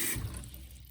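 Tap water pours into a plastic spin-mop bucket, a brief rushing splash up close that settles into a softer, steady flow.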